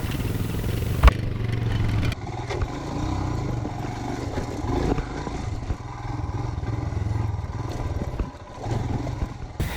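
A Royal Enfield Himalayan motorcycle riding off-road down a rough rocky descent, its engine a steady low rumble mixed with clattering and knocks from the rocks, with no voices.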